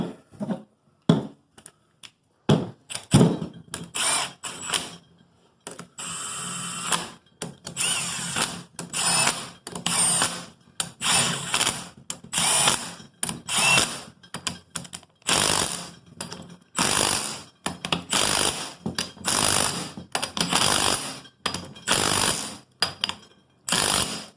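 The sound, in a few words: impact wrench reinstalling differential bolts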